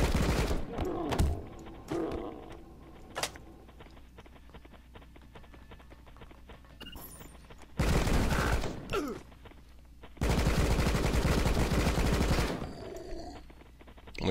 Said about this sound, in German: Wir können den Schüssen nämlich nicht ausweichen.